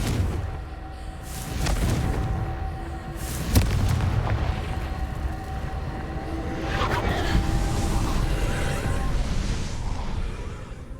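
Explosive Confringo spell blasts in Hogwarts Legacy, a few sharp booms with one loud burst near the middle, over a constant rumbling game soundscape.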